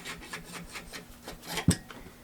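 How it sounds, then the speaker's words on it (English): A bolt carrier group slides out of the back of a Desert Tech MDR bullpup rifle with a soft, close metallic scrape and rub, ending in a brief sharp clack, quiet and with no talk. "then you can literally slide the bolt carrier group"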